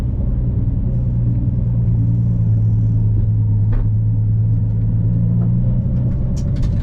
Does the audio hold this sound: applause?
no